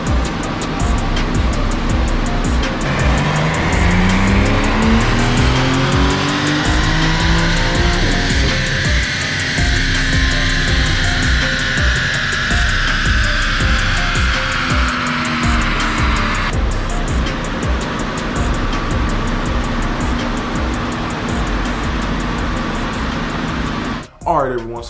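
A loud, steady engine roar from a 2021 BMW G80 M3 Competition on a dyno in sixth gear, pitch climbing slowly and then dropping off near the end, like a car pulling hard through a long rev run.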